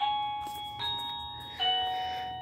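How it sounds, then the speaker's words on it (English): Electronic doorbell chime from the space game Elite Dangerous-style interdiction scene, three clean ringing ding tones spaced under a second apart, each decaying smoothly, alone without talk. "sounds like a doorbell."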